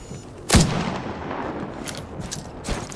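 A single loud, sharp gunshot in Apex Legends cracks out near the start, followed by a few fainter shots further off in the background.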